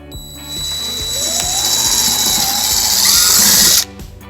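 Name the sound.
drilling hole in bumper with drill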